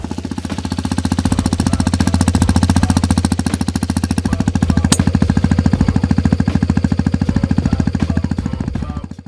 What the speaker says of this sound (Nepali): यो बाइकको एकदमै सुदिङ तपाईँहरूलाई म एक्जस्ट नोट सुनाउँछु है त।